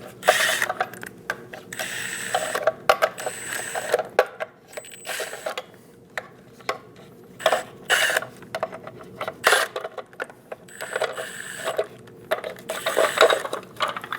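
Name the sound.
socket wrench removing lug caps on Chevrolet Silverado wheel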